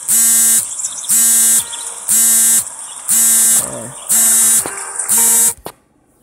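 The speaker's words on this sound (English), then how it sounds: "My alarm." An alarm buzzer sounds in six loud, evenly spaced harsh electronic blasts, each about half a second long with short gaps between, then cuts off into near silence.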